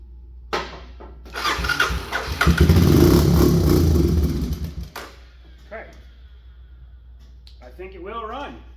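Old Honda Big Red engine being kick-started: a clattering crank that catches into a rough, revving run for a couple of seconds before cutting out, followed by a person talking nearby.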